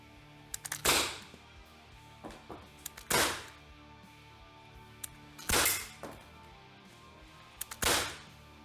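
Four sharp shots from a G17 Magnum 6mm airsoft pistol at irregular intervals, each a loud crack with a short ringing tail, separated by faint clicks and handling noise.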